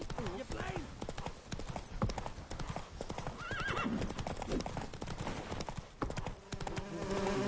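Geralt's horse Roach galloping in The Witcher 3: Wild Hunt, rapid rhythmic hoofbeats with a whinny, loud and close, while a player talks over the gallop.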